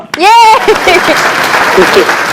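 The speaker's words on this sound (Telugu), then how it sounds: "చేతు చప్పట్లు కొట్టు." A television studio audience on a chat show breaks into a burst of hand clapping that continues steadily. A high, rising vocal whoop sounds at the start, and voices mix in over the applause.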